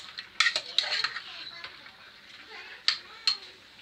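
Vegetables and spices stirred in oil in a pan for a mixed vegetable gravy, with sharp metallic scrapes and clinks of a spoon against the pan in irregular bursts over a faint sizzle.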